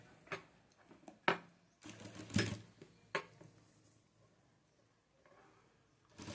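Domestic sewing machine stitching over the fold of a pocket on palazzo trousers, short irregular bursts of mechanical clatter and thumps close by, with quiet pauses between runs.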